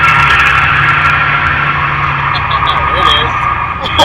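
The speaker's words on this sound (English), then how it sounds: "he's going to teach me how to do a burnout in this car" A 1987 Buick Grand National held in a burnout, its engine roaring loud and steady throughout with a sustained rough rumble and hiss of spinning tires, close up.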